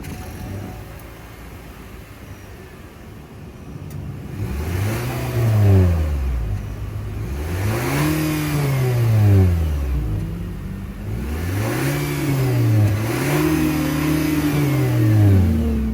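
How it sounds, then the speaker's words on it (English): A 2024 Nissan Sentra SR with a 2-liter naturally aspirated four-cylinder engine idles, then revs repeatedly, each throttle blip rising and falling in pitch, heard close and loud with no talk. "let's fire up this 2-liter naturally aspirated 4-cylinder engine"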